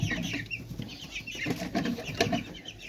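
Young chicks in a brooder peep and cluck in a soft, busy chorus, with scattered small calls and rustling, fairly close and continuous throughout.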